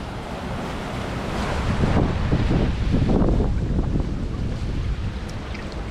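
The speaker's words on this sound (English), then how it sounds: "maybe you'll be able to hear me because it's very windy" Strong wind gusting through a canyon at Cañon de Guadalupe, a loud continuous roar buffeting the microphone and building to a peak midway.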